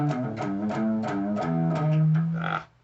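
An electric guitar plays a short, chugging palm-muted riff of rhythmic notes with a distorted tone, ending on a sustained note that drops away.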